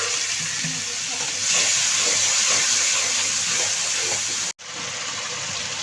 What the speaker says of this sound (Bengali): এখন আমি জল দিয়ে কষিয়ে নিব মশলাটা।